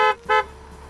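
Two short, loud blasts of a car horn, close by, the second slightly longer, followed by a fading tonal ring.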